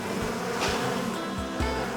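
Close buzzing of bees on a hive frame, a dense droning hum with individual insects swelling past, no voices.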